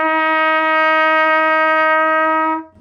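Trumpet sustaining a single steady F with the first valve pressed, one long even tone lasting over two seconds before cutting off, heard alone and close.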